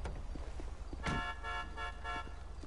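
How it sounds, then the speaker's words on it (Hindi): A car horn in the game GTA 5 honks in a few short repeated blasts over a low steady rumble, with no talking. "हॉर्न बाद में बजा लियो"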